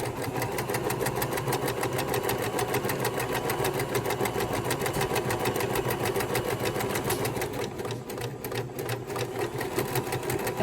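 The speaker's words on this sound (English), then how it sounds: "Back stitching." A sewing machine back stitches a quilt seam in a continuous, fast, even needle rattle that holds steady throughout, close and fairly loud with no talking.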